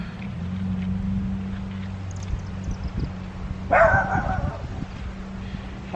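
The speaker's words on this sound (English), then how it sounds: "That's my little doggy." A small Jack Russell dog gives a short burst of sharp barks over a steady low engine hum.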